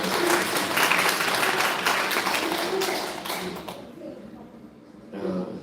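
A church congregation at a Sunday service applauds in congratulation, dense clapping for about four seconds that thins and fades, then briefly swells again near the end, with murmuring voices mixed in.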